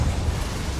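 A brief fiery blast from the Confringo spell in Hogwarts Legacy, a short rumbling burst lasting under a second.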